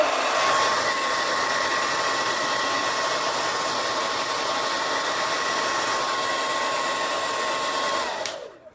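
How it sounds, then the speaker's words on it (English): A blow dryer on its cool setting runs steadily with a loud, even airy whoosh and a faint motor whine, then cuts off near the end. "I'm gonna go in with my blow dryer on cool."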